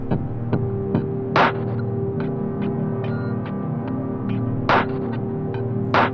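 A beat section time-stretched to double length in FL Studio plays as a slowed, smeared loop with a low throbbing hum, sparse ticks and periodic bright bursts, steady and close with no voices.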